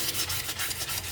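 Wood roundovers being hand sanded through the grits, a steady close rubbing scrape repeating in even strokes with no talk.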